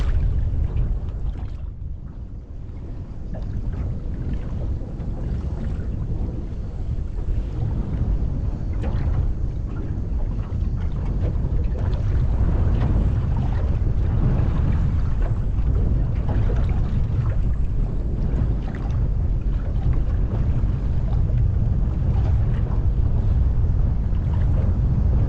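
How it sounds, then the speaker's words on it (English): Strong wind buffets a small fishing boat out on a bay, a loud, steady roar with heavy low rumble on the microphone and the faint wash of water beneath, and no voices. "Super windy right now"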